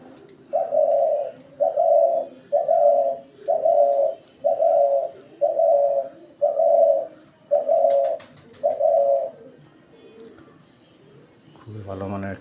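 A decoy dove-like bird coos nine times in a regular, evenly spaced rhythm, close and clear against a quiet background, followed by a brief voice at the end.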